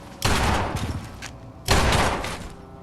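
Two loud pistol shots from Fallout 4 gameplay, each a sharp close blast followed by a short decaying rumble, spaced about a second and a half apart.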